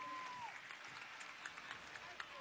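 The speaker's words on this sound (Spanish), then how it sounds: "Fuerte ese aplauso a María." Faint, steady applause from a crowd at a PSUV swearing-in ceremony in Anzoátegui, honouring María, sounding distant and low throughout with a brief tone early on.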